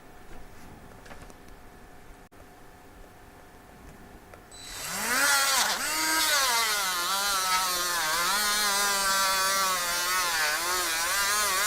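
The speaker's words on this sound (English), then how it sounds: "So let's see if we can't get a bit of this on the polishing wheel." A polishing wheel is charged with Parkside polishing compound. It starts up midway after a quiet stretch, then gives a loud, continuous whirring buff whose pitch wavers as the work is pressed against it.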